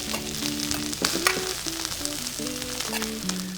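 Potatoes roasting in a hot pan with garlic, thyme and rosemary, a dense continuous sizzle with occasional sharper crackles, while background musical tones run underneath.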